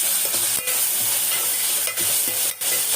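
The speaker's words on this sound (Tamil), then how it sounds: "அதையும் போட்டு நல்லா வதக்கணும்" Ginger garlic paste sautés with onions for biryani, making a strong, steady hiss of frying oil that dips briefly a few times as it is stirred, close and uninterrupted by talk.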